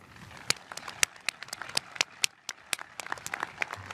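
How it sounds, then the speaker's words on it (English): Applause at a college School of Engineering commencement ceremony: scattered, sparse claps ring out from a modest crowd, individual sharp hand claps standing out irregularly rather than merging into a dense roar. "Please join me in applauding their fine work."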